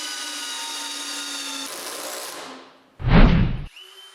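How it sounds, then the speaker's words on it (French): A Maximum cordless drill-driver drives a screw into wood with a steady whirring motor that slows and cuts off, followed by a short loud burst as the clutch engages, then quiet. "je visse la première vis, puis après quelques secondes, l'embrayage embarque"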